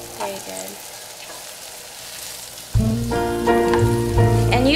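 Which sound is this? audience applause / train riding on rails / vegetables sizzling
vegetables sizzling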